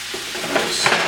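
Onions with chili powder and cilantro being stirred in a pan, a short scraping and sizzling with a couple of louder utensil strokes, close and fairly quiet.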